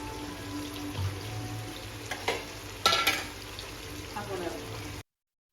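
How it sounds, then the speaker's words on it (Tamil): Onions sautéing in oil for a seeraga samba mutton biryani, a soft steady sizzle with a few sharper stirring scrapes and clinks, fairly quiet, with no talk. "வெங்காயம் வதங்கிட்டுருக்கேன். நல்லா ஆயிலில் வந்து கொஞ்சம் நல்லா ஃப்ரை பண்ணிக்கலாம்."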